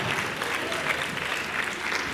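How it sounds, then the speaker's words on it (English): A crowd keeps clapping at an arts showcase, a brisk, dense burst of applause heard on its own at moderate volume. "Y'all can still keep clapping."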